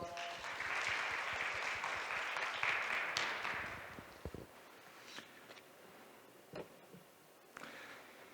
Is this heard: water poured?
no